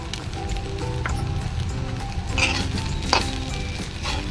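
Sabudana khichdi with rock salt and crushed peanuts sautéing in a pan, a continuous close sizzle broken by scraping stirs and a sharp spoon clink against the pan.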